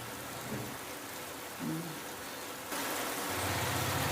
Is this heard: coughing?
no